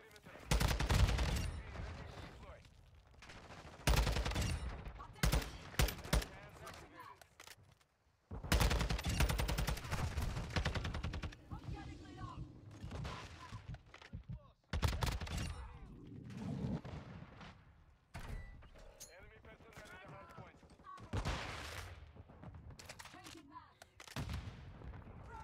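Gunfire from a TAQ 56 rifle in the video game Modern Warfare 2: repeated loud automatic bursts with short pauses, plus explosions and game noise.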